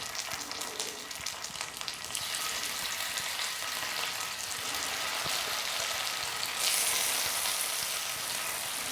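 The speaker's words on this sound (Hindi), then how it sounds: "तो इसको हम शैलो फ्राई करने वाले हैं।" Soybean pieces shallow frying in a few spoonfuls of oil in a pan give a steady, close sizzle that holds for the whole stretch and swells slightly toward the end, with no talk.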